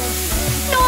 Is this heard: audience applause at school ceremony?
no